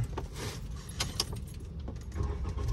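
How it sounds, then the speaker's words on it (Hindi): Car keys jangling near the ignition as a car is started during a driving lesson, faint metallic clinks over a low, steady engine rumble, with no talk. "ये स्टार्ट हो गई गाड़ी"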